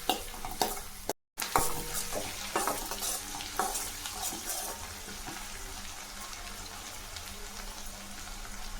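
Small onions for a potato fry sizzle in oil in a pan while being stirred, a steady close frying crackle broken by scraping spoon strokes and brief clatters early on, then settling into an even hiss.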